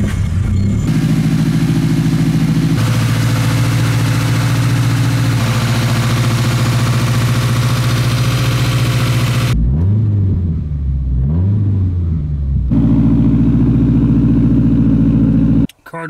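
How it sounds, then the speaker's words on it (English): A Nissan Silvia S14 engine runs steadily and loudly up close, with a brief lull near the end where the revs dip and rise a few times before the steady drone returns and then cuts off. "I think I'll go ahead and start it up for you guys"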